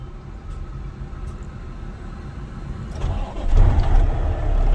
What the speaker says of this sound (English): I'm going to safe start my engine